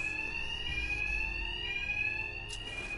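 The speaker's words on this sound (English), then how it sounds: "My attacks will be covered by the noise of the alarm." Alarm bell in Batman: Arkham Knight, ringing continuously with a steady high-pitched electronic tone, loud and alone throughout.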